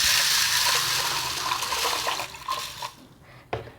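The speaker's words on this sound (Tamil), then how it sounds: "இப்போ நல்ல தண்ணி கொஞ்சம் ஊற்றிக்கலாம்." Water pours steadily over washed green gram with a rushing splash that thins out and stops, followed by a brief splash near the end.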